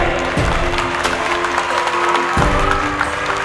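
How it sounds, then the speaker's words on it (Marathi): Audience applause in a lecture hall during a motivational talk for students, a steady dense clapping that fills the whole stretch, with faint voices mixed in. "टाळ्या थांबल्या नाही पाहिजेत."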